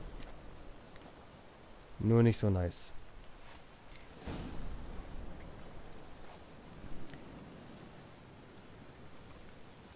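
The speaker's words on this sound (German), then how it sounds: "Und es regnet." Rain falling in the video game The Witcher 3: Wild Hunt makes a soft, steady hiss that runs the whole way through, beneath a short burst of someone talking.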